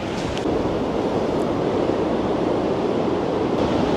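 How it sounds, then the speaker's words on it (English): Sea waves rolling in at Blackpool make a steady, loud broadband wash of surf with wind noise, continuous throughout and without any voices. "Let's see those dramatic waves roll in one last time."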